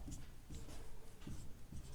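Marker or chalk writing on a board during a geometry lecture, with soft scratchy strokes in short separate bursts against a quiet room background.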